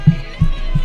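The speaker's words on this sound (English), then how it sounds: "If I tap around my desk" Light taps on a desk and microphone stand come through as three soft, dull low thumps, evenly spaced, close to a mic on a desk mount, with a quiet hiss behind them.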